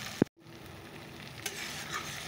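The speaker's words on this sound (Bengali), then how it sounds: "দেখো মশলাটা থেকে তেল ছাড়া শুরু করে দিয়েছে।" Spice paste (masala) fries in oil in a home kitchen, a soft, even sizzle that runs close and faint after a single sharp clack of a utensil.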